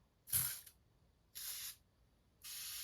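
A La Roche-Posay facial mist sprays in three short hissing bursts, the first sharp and strongest, the others softer and evenly spaced, close and otherwise quiet.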